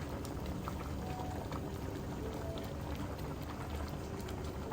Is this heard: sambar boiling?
yes